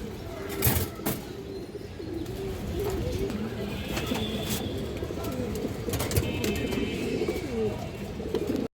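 Indian high flyer Kaldom pigeons cooing in a loft, soft low repeated coos running steadily with occasional clicks, wing shuffles and brief knocks nearby.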